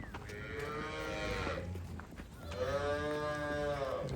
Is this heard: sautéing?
no